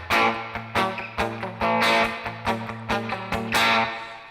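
A NUX amp scene with noise reduction and reverb switched on plays a distorted electric guitar riff, loud rhythmic chugging chords struck in regular bursts with short decaying tails between them, heard alone.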